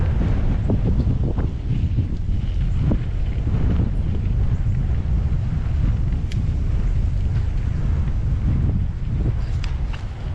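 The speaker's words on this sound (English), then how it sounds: "Windy." Strong wind buffeting the microphone throughout, a constant low rumbling roar with faint water sounds underneath and no speech.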